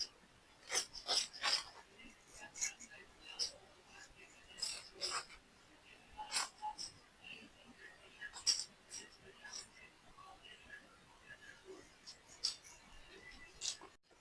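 Scissors cut through saree fabric for a lehenga in short, separate snips and crisp cloth rustles, with quiet pauses between cuts and no talking.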